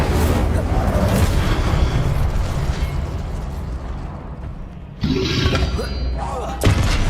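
An Incendio fire spell bursts in Hogwarts Legacy amid a busy duel, loud whooshing and thudding blasts layered together, with a sharp new burst near the end.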